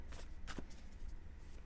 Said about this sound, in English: I was just shuffling mindlessly here